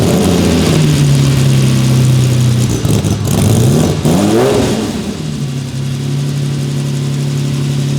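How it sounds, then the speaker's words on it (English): Classic Ferrari flat-12 engine starting and revving, loud and close, with a steady idle hum rising into sweeping revs midway before settling back to idle, no voices. "Flat 12, listen to this start."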